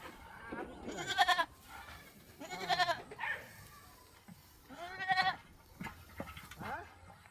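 Goats bleat in several loud, wavering calls spread across the clip, close by, with faint voices talking around them.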